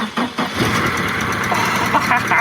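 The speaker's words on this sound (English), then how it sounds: "Time to fire this up." A Saab 9000 car engine cranks briefly, then catches and settles into a steady idle close by, with a faint voice in the background.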